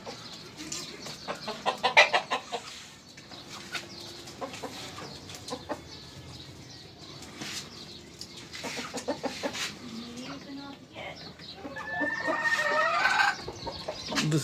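Chickens in a small rooftop poultry coop cluck and squawk in irregular bursts, close and moderately loud, with a louder flurry of agitated calls near the end.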